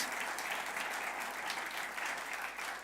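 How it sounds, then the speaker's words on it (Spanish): A church congregation applauds steadily and loudly throughout, a dense sustained clapping from a large crowd with no pauses. "Dale un buen aplauso a Él"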